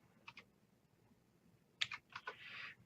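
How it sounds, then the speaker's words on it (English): A few keystrokes on a computer keyboard: two soft clicks, a pause, then a quick burst of close, light taps in an otherwise quiet room. "So we're going to type it in, opt-in dash page."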